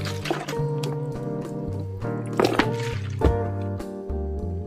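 Fish sauce is poured into a glass noodle salad made with fresh wild garlic stalks, giving a close, steady liquid trickle with small splashy and squishy accents throughout.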